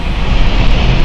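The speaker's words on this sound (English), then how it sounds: "Second up now is our Lux Air Dash. Taxiing already." A Luxair Dash turboprop taxis at London City Airport, giving a loud, steady, continuous engine roar throughout.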